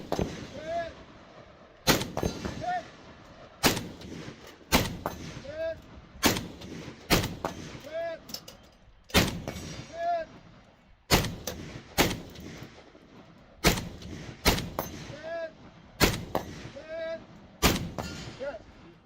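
AK rifle fired at a multigun match, shots ringing off steel targets: about a dozen sharp, loud reports spaced a second or two apart, each trailed by a faint metallic ping from the steel.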